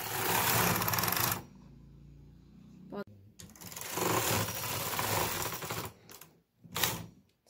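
The carriage of a double bed knitting machine runs across rows with loud mechanical rattling bursts, broken by short pauses and sharp clacks.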